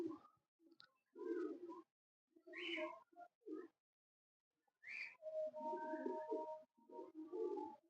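Old Sialkoti pigeons cooing in short bursts with pauses between, some calls clearer and closer than others, with no talk over them.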